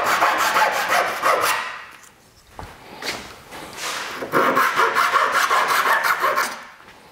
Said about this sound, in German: Dann solltet ihr unbedingt hier diese überstehenden Enden noch kappen, auch wenn ihr später noch einen Sägeschnitt macht.